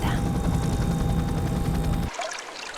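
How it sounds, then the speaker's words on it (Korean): A sandy river at normal water level, its turbulent current moving sediment along the bed, produces a loud, dense rushing roar. The roar holds steady for about two seconds, then cuts off abruptly into quieter, scattered sound. "강물은 한 방향이 아니라 복잡하게 얽혀 흐릅니다."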